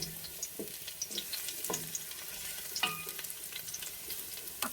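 Mussels cook in oil in a pan, giving a quiet steady sizzle while being stirred, with intermittent scraping and clinking strokes spread through the clip.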